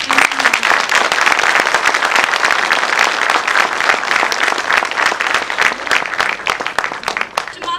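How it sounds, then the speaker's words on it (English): An audience at a hospital health camp event gives a big round of applause for boxer Mary Kom, a crowd of many hands clapping loudly and steadily, with faint voices mixed in. "Ladies and gentlemen, may we have a huge round of applause for Ms."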